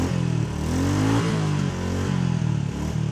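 Royal Enfield Bullet top-model motorcycle engine revving up close, a steady loud mid-pitched throb that rises and falls over a few seconds, with no talk.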